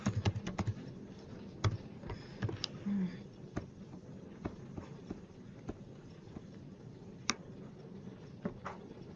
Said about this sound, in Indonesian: Kita ketik dahulu